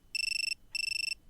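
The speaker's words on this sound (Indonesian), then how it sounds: "Ponselmu berdering." Two bursts of electronic ringing from a mobile phone, each about half a second of rapid warbling trill, separated by a short gap, moderately quiet with no voices.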